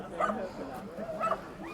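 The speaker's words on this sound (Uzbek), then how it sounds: "Ya'ni Sashakaga mana bunaqa katta, toza qonli, alaboy kuchuklarimiz chiqqan." Alabai puppies at a dog market give two short, high yelping barks about a second apart, heard close but faint over a murmur of background noise.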